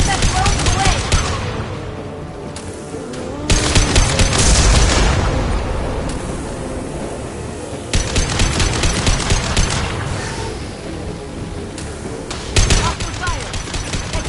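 Heavy gunfire in the Mass Effect 2 video game: loud bursts of rapid automatic shots and single cracks come in waves with booming impacts, close and dominant throughout, with brief combat voices among them.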